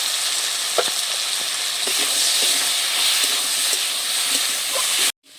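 Taro (kochu) cooking in mustard oil with chilli powder, giving a loud, continuous close sizzling and steamy hiss with faint stirring taps throughout, cutting off abruptly at the end.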